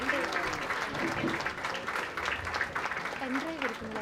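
Audience applause welcoming the chief guest at a literature festival, a sustained steady clatter of many hands clapping throughout, fairly close, with voices mixed in.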